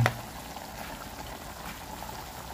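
Pot of water boiling vigorously with big bubbles, a steady bubbling roil that stays fairly quiet after a brief sharp knock at the start, heard alone with no talk.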